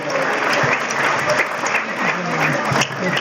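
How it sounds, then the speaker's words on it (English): Crowd at an anniversary lecture breaking into steady, loud applause, many hands clapping together in a continuous wash that lasts the full few seconds. "Can we give her a standing ovation, please, and a round of applause?"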